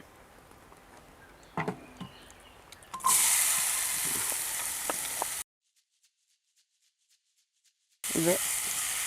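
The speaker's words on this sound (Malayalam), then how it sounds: "നമുക്ക് സവാള ഇടാം." Chopped onions drop into hot oil with cinnamon and spices in a pan for an egg roast, bursting into a loud, bright sizzle after some quieter clatter. The sizzle cuts out to near silence, then returns, with a brief voice in the background.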